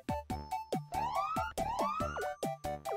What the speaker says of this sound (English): Oh, I hear police sirens.